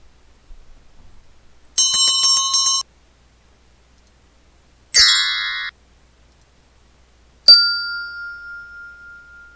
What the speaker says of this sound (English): Let's get a bell.